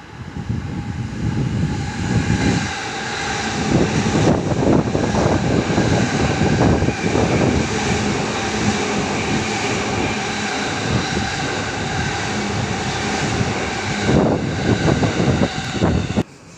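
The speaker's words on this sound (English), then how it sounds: "we have a train passing platform 2" A train passes platform 2 at Hodogaya station, a loud sustained rumble and roar lasting the whole stretch with occasional rattles and bumps, close by, ending abruptly.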